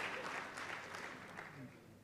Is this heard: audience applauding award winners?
yes